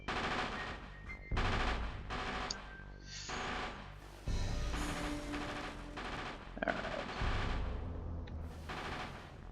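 Rapid bursts of turret gunfire in the video game Castlevania: Legacy of Darkness, loud repeated volleys broken by short pauses, with electronic game effects between, no speech.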